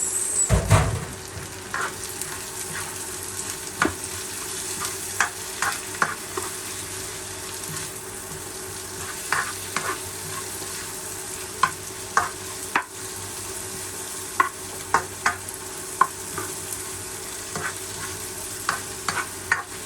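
Garlic and onion sauté in a hot pan, a steady sizzle broken by frequent stirring clicks and scrapes, close and fairly quiet with no talking.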